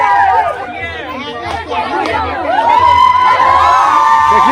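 A crowd of women chatters loudly and over one another in a wedding procession, dense close babble with raised voices and occasional shouts.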